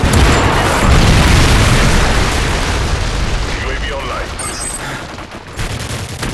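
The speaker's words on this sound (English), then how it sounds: "friendly predator missile" A predator missile from Call of Duty MW3 strikes with a loud, booming explosion that rumbles and crackles, then slowly fades into debris and distant noise.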